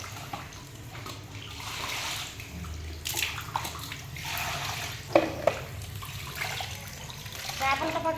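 Water runs steadily from a tap as fish are washed for a Sunday fish curry, a continuous splashing rush with a couple of brief clinks.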